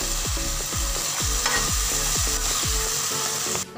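Mushrooms sizzle loudly in a hot pan while a spatula scrapes and stirs in a steady rhythm of repeated strokes, up close.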